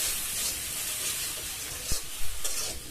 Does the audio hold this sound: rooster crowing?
no